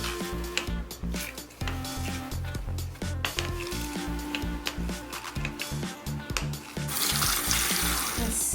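Dirty water is squeezed out of makeup brushes over a sink, a close, wet squishing and dripping over steadily running water that grows louder near the end, with no voices.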